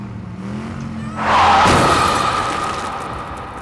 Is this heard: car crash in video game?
yes